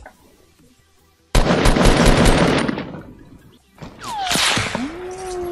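Rapid bursts of automatic gunfire in a first-person video game ring out loud and close for about two seconds, then fade, followed by sweeping whooshes and whistling tones.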